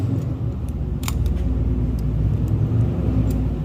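A Dodge vehicle's engine runs steadily with a deep, even rumble, close by, with a few light clicks and taps over it.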